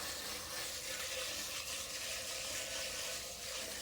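Running water rinsing dirt off a grimy vintage Dodge hubcap, a steady close hiss and splash that holds at an even level throughout, with no talking.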